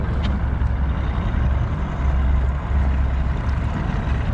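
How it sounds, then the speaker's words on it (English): An inboard motorboat engine runs steadily on a river, a deep continuous low rumble with a constant wash of water noise and no voices over it. "There's no better noise than that inboard"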